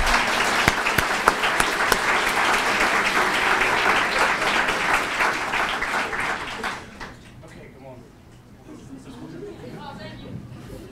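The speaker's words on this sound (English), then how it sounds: "One more hand of applause for these students" An audience at a student competition applauds loudly and steadily for students, then the clapping dies away into quieter room murmur and chatter.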